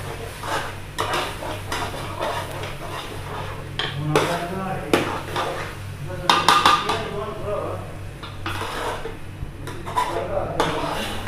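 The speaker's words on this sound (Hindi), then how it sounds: "अभी इसे अच्छी तरह मिक्स करेंगे" Utensils scrape and clink against a pot as food is mixed, repeated metallic stirring knocks and clatters in an uneven rhythm, with people talking in the background.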